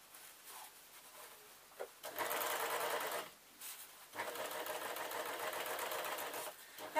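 Sewing machine stitching fabric for an off-the-shoulder dress, in bursts: a short run near the start, a steady stretch of about a second and a half, then a longer continuous run of over two seconds, close and moderately loud with no talking.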